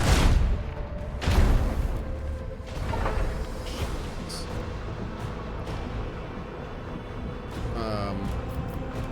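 A ship's cannon salvo in Warhammer 40K: Rogue Trader, several sharp booming blasts in quick succession settling into a low rumbling drone, with game interface chimes near the end.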